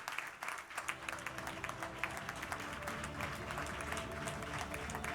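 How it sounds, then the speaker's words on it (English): A graduation audience at First Friends Campus applauds steadily, a dense, fairly distant wash of clapping over a low hum, with some crowd murmur beneath. "let's put our hands together and give them a round of applause"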